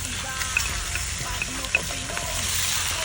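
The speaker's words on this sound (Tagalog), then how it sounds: "Unahin ko nang ilagay itong balat ng baka at saka yung tripe." Beef skin and tripe sizzle in a pot as balbacua begins cooking, giving a steady, close crackling hiss with small pops and faint stirring, with no talking over it.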